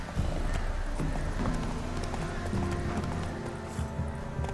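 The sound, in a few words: horse Roach galloping in video game The Witcher 3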